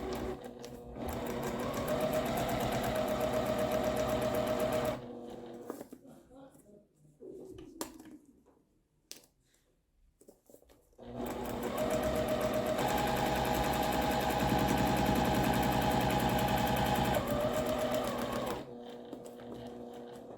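A sewing machine stitches a seam for foundation paper piecing, with two long steady runs of fast mechanical whirring, loud and close, split by a quieter pause full of small handling noises.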